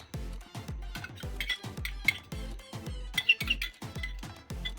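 Soya chunks being stirred with maida and tomato sauce in a bowl, giving a steady rhythm of close, repeated clinks and scrapes of a utensil against the dish, with no talk.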